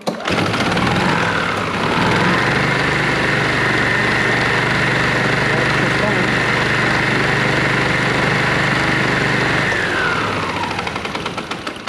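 A TurfMate mower engine, freshly given a carburetor rebuild after sitting for years, revs up and runs loud and steady close by with a throbbing knock, then winds down near the end; no talking.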